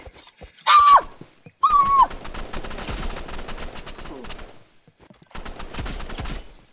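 Video game gunfire rattles in dense, rapid volleys, loud and close. A horse whinnies twice near the start, and the firing resumes after a short pause near the end.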